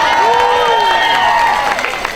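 A crowd at a Walton entertainment event applauds and cheers for the mayor, dense loud clapping sustained throughout with a voice ringing over it.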